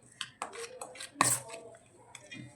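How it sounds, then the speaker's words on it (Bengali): Spoon stirring sugar into atta biscuit dough ingredients in a bowl, giving a few sharp clinks and scrapes against the bowl in irregular bursts, close and fairly quiet. "চামচ দিয়ে ঘুরিয়ে ঘুরিয়ে ভালো করে মিশিয়ে নিচ্ছি আমি।"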